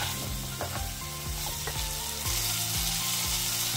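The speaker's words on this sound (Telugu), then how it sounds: "మనం కట్ చేసుకున్న క్యాప్సికమ్ ముక్కలు వేసుకొని ఒక 5 నిమిషాల వరకు ఉడకనివ్వాలి" Capsicum pieces with garam masala and turmeric cooking in a pan for capsicum paneer, continuous close sizzling and frying with periodic spatula scrapes and stirring knocks.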